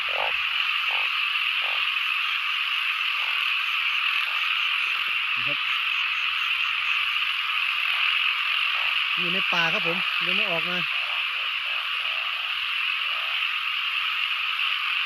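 Banded bullfrogs and other frogs croak in a forest at night at the end of the rainy season. Short croaks come now and then, with a louder burst of pulsed calls partway through, over a steady high insect drone while someone talks quietly.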